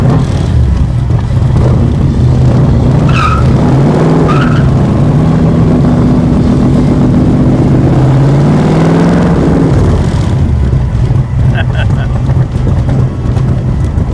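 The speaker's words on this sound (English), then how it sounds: "we're gonna go for a ride in this Shelby Cobra" A 1965 Shelby Cobra continuation sports car rolls along with a steady low engine drone and road rumble, the note rising and shifting as it accelerates, loud and close throughout while people talk over it.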